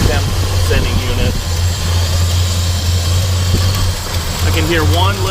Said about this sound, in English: So go ahead and fire it up. It actually sounds really nice.